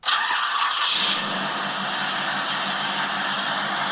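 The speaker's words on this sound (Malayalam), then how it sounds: "കാർ സ്റ്റാർട്ടിങ്ങിൻ്റെ ഒരു സൗണ്ട് ഞാൻ ജസ്റ്റ് ഒന്ന് പ്ലേ ചെയ്ത് കാണിക്കാം." A car starting as a sound effect: a loud burst of cranking with a brief high squeal in the first second, then a steady, broad engine roar running on without a break.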